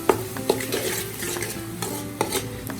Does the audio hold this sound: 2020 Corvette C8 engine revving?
no